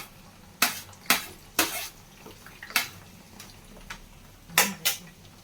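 Onion and curry leaves drop into a pot of homemade hair oil in a series of sharp sizzling bursts. Roughly eight crackles come in irregular clusters, each fading quickly over a quiet background.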